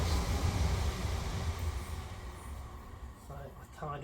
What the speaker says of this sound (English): excuse the train going past